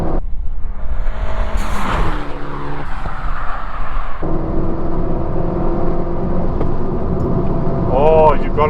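A turbocharged Renault Clio RS hot hatch engine revs and pulls hard under acceleration, a steady close drone with shifting pitch and a brief gear change, partly under excited talk from occupants.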